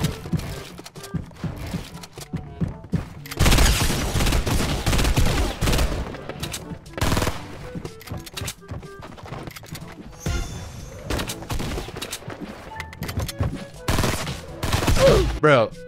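Rapid bursts of FAMAS burst assault rifle fire in Fortnite, loud and close, repeating in clustered volleys throughout with dense gunfire layered over game noise.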